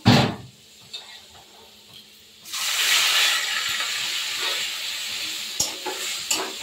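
Spice paste sizzling loudly in a pan after water is added, cooking for a potato and paneer curry; a sudden burst of frying hiss after a quiet start, with stirring clinks, close and alone.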